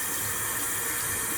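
Warm tap water runs steadily from a faucet into a bathroom sink, a continuous close hiss and splash that holds even throughout with no voices.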